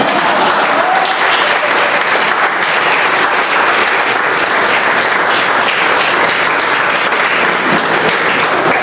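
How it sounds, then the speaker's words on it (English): Sustained applause from a meeting audience at a Toastmasters club in Bombay, steady and dense clapping that fills the whole stretch with no pauses, as the crowd welcomes Toastmaster Maxwell. "Welcome with a round of applause, Toastmaster Maxwell."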